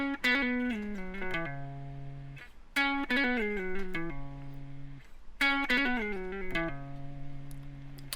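Electric guitar playing the solo from a song, slow phrases of picked notes with quick hammer-ons and pull-offs, three short melodic runs separated by brief gaps, played alone.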